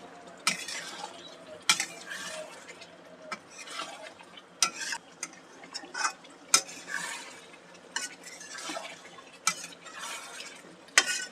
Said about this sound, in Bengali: এবার আমি খুব ভালোভাবে 10-15 মিনিট ধরে এটাকে কষে নেব